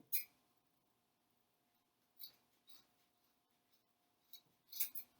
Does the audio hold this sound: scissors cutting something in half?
yes